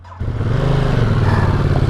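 Ducati Multistrada motorcycle engine idles with a steady, loud, throbbing rumble, starting after a brief quiet moment and holding close and constant throughout.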